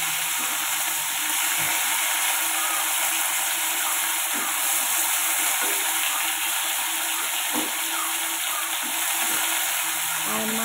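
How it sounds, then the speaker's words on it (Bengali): Fish frying in hot oil, a steady loud sizzle and crackle with faint occasional bumps as pieces are turned in the pan. "মাছকেই তেলে উল্টে দেবো, দিয়ে এপিট ওপিট ভালো করে আমি ভেজে দেবো"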